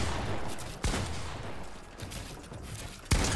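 Gunfire in the Fortnite video game during a token wager match: two sharp shots stand out, one early and one near the end, over a dense, continuous bed of game noise with no talk.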